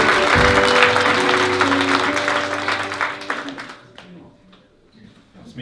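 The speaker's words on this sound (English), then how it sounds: "A big cheer, please, from our theatre audience" Theatre audience cheering and applauding loudly at a Christmas show, a dense burst of clapping that gradually thins out and fades over a few seconds.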